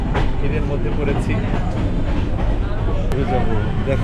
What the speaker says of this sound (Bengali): আমরা এই সিল্ক সিটি ট্রেনে করে যাচ্ছি